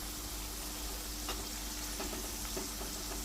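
Onions browning in a pan for prawn biryani give a steady, dense sizzle with a few faint stirring scrapes, close and continuous, no voices.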